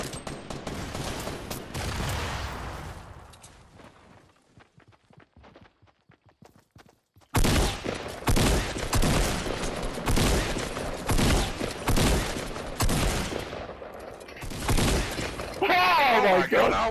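Shotgun fire in a multiplayer video game, loud bursts and impacts in a dense, chaotic stretch, dropping to a quieter lull midway before heavy firing resumes, with players talking over it.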